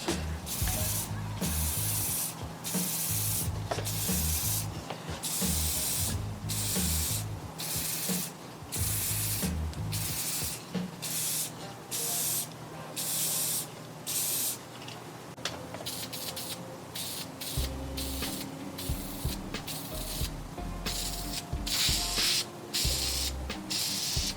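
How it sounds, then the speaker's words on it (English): Aerosol spray paint hissing onto a 3D-printed cosplay piece in repeated bursts of even mist, each spray a few seconds long with short gaps, close and fairly loud, alongside some handling and rustling. "When you're spraying it, it kind of dries a little bit and hits it in like an even mist."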